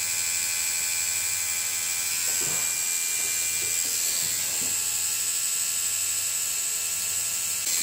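A tattoo machine buzzes steadily as it tattoos a silicone skull, a close, constant electric whine with faint shifts in tone as the needle moves over the surface, and no voices.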